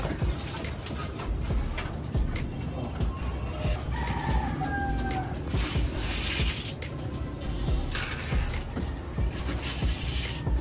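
Chickens at a breeder's yard cluck and stir continuously, with a rooster crowing at mid distance and other birds calling through a busy outdoor background.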